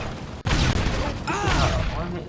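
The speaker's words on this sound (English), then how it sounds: "Explosions going everywhere." Explosions and gunfire from a Star Wars mod of the GTA video game, a sudden loud blast followed by sustained rumbling booms and crackling shots with a whistling sweep, dense and continuous throughout.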